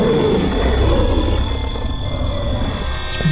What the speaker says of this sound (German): sah ein laut brüllendes Monster